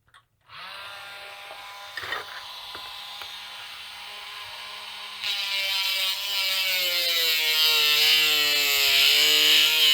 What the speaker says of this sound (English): So I'll use the Dremel with cutoff wheel, and I'll cut across